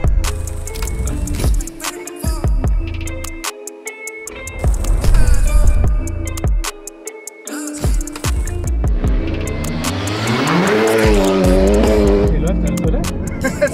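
Five-cylinder Audi VZ5 drifting around a race track, engine revving and tires squealing in rising and falling sweeps, close and loud, with people talking over it.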